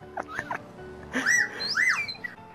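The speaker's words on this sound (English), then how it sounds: "What's that whistling noise?" Slide whistle played over GTA 5 Online voice chat, with rising and falling gliding tones in two swooping bursts after a few short chirps, fairly loud and close over faint background noise.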